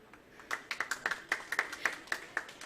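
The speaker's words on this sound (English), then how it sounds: "Give a round of applause" Scattered hand claps from a small audience greet a guest at an Ayurveda seminar, about a dozen fairly even claps over a couple of seconds, moderately quiet in a room.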